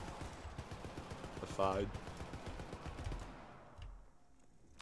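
Automated turret gunfire in the game Syndicate, a dense rattle of shots with a sharper burst partway through, fading toward the end while a voice speaks over it.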